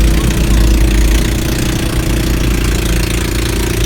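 An 18 HP Kawasaki-branded boat engine runs continuously, a loud, close, rough drone with a steady rattling pulse that holds throughout.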